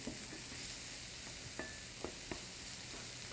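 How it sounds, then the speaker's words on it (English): Minced onion browns in olive oil in a pan, a soft, steady sizzle close by with light scraping stirs and occasional spoon clicks against the pan, no voices. "we're browning up our minced onion"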